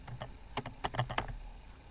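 Program input typed on a computer keyboard while a C++ program runs: a quick irregular run of close key clicks with a few sharper taps, and no voices.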